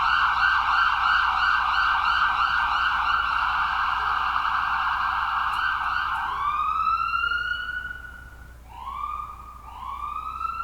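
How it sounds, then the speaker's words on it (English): An ambulance siren wails steadily up close, then shifts to shorter rising whoops toward the end, loud and alone with no talking. "waiting for an ambulance."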